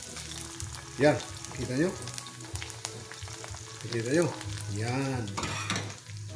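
An egg fries over easy in a pan, crackling and sizzling steadily up close while someone talks over it.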